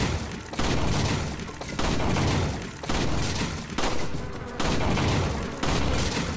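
Gunfire at a shooting range in the VR game Resident Evil 4 on Meta Quest, loud repeated bursts of shots in bursts of roughly a second each, separated by brief gaps, with dense booming reverberation.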